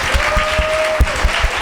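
A church congregation clapping in rhythm at a Christian service: evenly spaced, close claps about five times a second, with a steady sustained tone running beneath.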